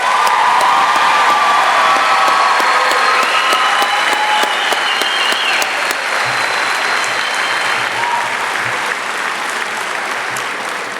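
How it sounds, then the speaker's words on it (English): A large crowd at the 2019 Dunkirk High School graduation in Dunkirk, NY applauds the graduating class, with sustained loud clapping and scattered cheers and whoops filling the whole span, then easing slightly toward the end. "I think the class of 2019 has earned another round of applause"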